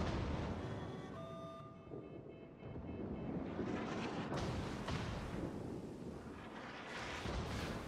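A battleship's rear gun fires in World of Warships aboard a North Carolina, a deep rumbling boom that rolls on amid a dense, loud low roar of battle and wind-like noise.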